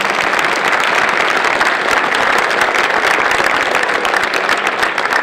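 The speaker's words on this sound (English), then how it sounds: "Let's hear a round of applause for all of those special recognitions." A steady, full round of applause from a large crowd at an athletics awards ceremony, loud and continuous throughout with no voices over it.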